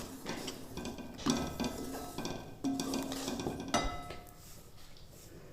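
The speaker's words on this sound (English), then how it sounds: "Give this a mix" Spoon stirring mushroom korma gravy in a pan with melted butter, soft scraping and a few louder clinks against the pan, over a faint sizzle.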